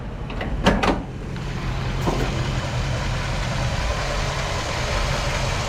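A car engine idles steadily with the hood raised at a classic car cruise event, a low constant rumble filling the whole stretch after a couple of brief clunks near the start.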